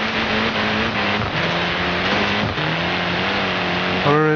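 In Forza Horizon 3's Blizzard Mountain, a car drives through snow with a loud, steady engine drone whose pitch steps up through gear changes, revving higher near the end.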